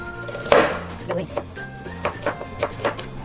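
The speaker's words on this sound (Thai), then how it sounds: "อันนี้ก็หั่นเป็นลูกเต๋างามๆจ้ะ หอมหัวใหญ่แบบนี้จ้ะ" Onion being chopped into cubes on a board with a knife, a sharp first cut followed by a steady series of crisp, evenly spaced chops, close up, while someone talks over them.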